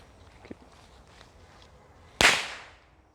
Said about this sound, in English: Now the test will be done with a firework in x equals -16 meters and y equals 0.